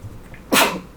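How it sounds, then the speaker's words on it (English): A single sharp sneeze bursts out about halfway through, loud and close after a near-silent moment, then trails off quickly. "All right, sorry, I sneezed."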